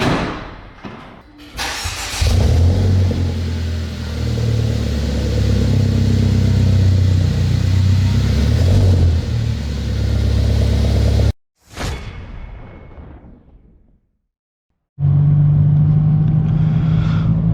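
Mercedes C180 fitted with an E250 turbo engine cranks and fires up for the first time, then revs hard in a loud, sustained roar, cuts off, restarts briefly and settles into a deep steady idle.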